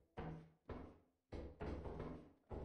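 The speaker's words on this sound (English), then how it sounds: "The door's so loud." A heavy metal door in Lethal Company bangs and scrapes through several loud, hollow thuds and grinding stretches, close and echoing in an empty room.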